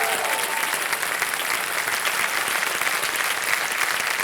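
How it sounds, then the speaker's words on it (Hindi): Game show studio audience on Kaun Banega Crorepati applauds a winning contestant, a full, sustained burst of clapping from many hands, steady and loud throughout. "तालियां बज जाए इनके लिए।"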